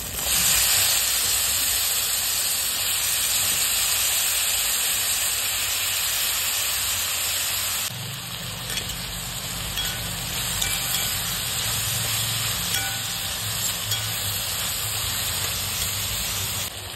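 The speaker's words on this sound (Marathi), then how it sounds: "आता याच्यामध्ये आपला चिरलेला स्वच्छ धुवून घेतलेला दोडका टाकून घेऊ आपण" Chopped, washed ridge gourd hits a hot pan in a tomato-based masala, giving a steady, loud broadband sizzle and hiss that runs continuously, with a slight drop in intensity partway through as it settles.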